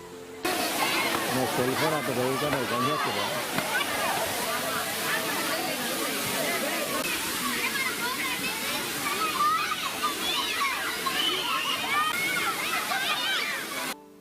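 Vennela waterfall in Bhadradri Kothagudem, swollen after days of heavy rain, gives a steady loud rush of falling water throughout, with a busy murmur of tourists and children's voices mixed underneath.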